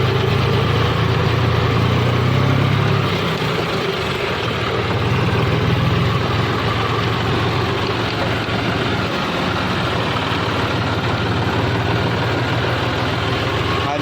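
A heavy earthmoving machine in a village rumbles steadily as it loads soil into a lorry and a tractor, its engine drone continuous and prominent for the whole stretch.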